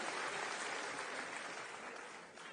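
Audience applause during a political speech by Delhi's chief minister about waterlogging, a faint, distant wash of clapping that stays even and quiet.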